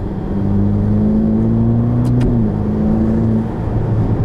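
A 2021 Ferrari Roma accelerates hard from inside the cabin, its engine note a steady loud drone that rises slightly in pitch, then drops briefly as a gear changes before pulling on.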